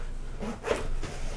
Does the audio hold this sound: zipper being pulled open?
yes